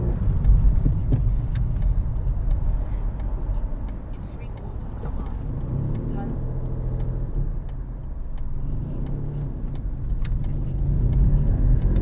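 A Toyota Aygo driving through Manchester city traffic, its engine a steady low rumble with road noise, loud and close throughout, with faint traffic around it.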